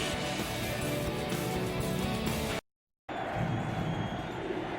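Roar of a football stadium crowd at a 2012 Buccaneers at Broncos game, a dense, steady mass of noise that drops out briefly and then returns, with faint voices mixed in.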